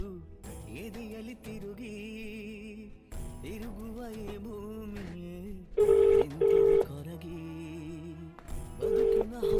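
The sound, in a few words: telephone dialing tones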